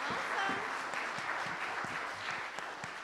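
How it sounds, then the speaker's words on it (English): A church congregation applauds fifth graders during a service, a soft, fairly distant round of clapping with scattered individual claps, sustained for about three seconds. "give these guys another round of applause"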